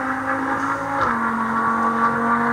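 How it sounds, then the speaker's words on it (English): A fast car passes by on a rain-wet road with a little wind, a steady whirring engine tone whose pitch drops as it goes past, moderately loud and alone. "That's a fast car though."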